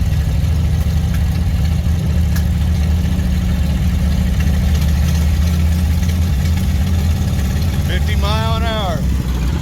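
A 1955 Dodge car driving on the road with a steady, loud low engine drone and road rumble throughout, ending in a short rising whine near the close; a voice speaks over it.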